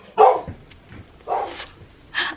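Three separate dog barks, fairly loud and close, spaced out over a couple of seconds with quiet room tone between them and no talking.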